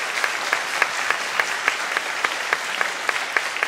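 Audience applause at a church ceremony welcoming a pastor, a steady wash of many hands clapping with sharper individual claps standing out, sustained and fairly close throughout.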